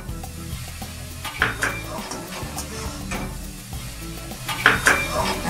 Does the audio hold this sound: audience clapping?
no